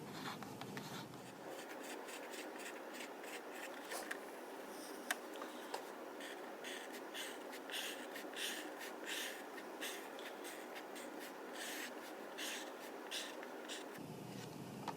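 A pencil scratches texture marks onto paper in quick, repeated strokes, a close, continuous dry scribbling with no talking.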